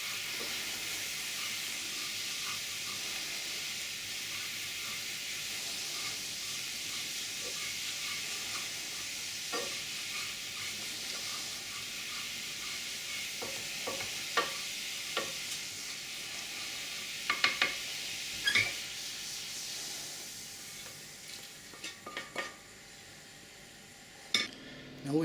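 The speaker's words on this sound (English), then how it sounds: "Deglaze our pan, get all the crispy bits off." Deglazing a pan after searing ox cheeks for a braise, with liquid hissing and sizzling steadily as a utensil stirs and scrapes up the crispy bits, producing a few soft knocks and scrapes near the end.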